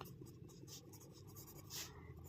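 Faint, close writing on paper or a board during a class 9 maths lesson on triangle angles: a soft, brief scratch against a low background hum.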